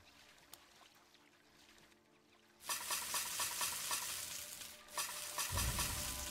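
Food at a cooking spot in the fantasy game Gedonia sizzles suddenly after a quiet lead-in, a dense, even frying hiss that holds steady to the end with a low rumble joining late.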